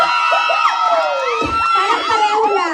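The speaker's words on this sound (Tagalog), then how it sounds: "Parang pareho lang ang sumisigaw." A crowd of children shouts and cheers together at a family reunion game, with many high voices overlapping in a loud, continuous roar for the whole stretch.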